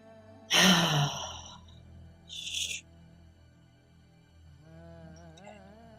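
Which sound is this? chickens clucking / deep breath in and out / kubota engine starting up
deep breath in and out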